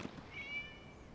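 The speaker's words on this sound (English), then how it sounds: "It's a cat. It was just a cat." A single short cat meow from the video game Genshin Impact, faint and thin, heard alone over quiet background.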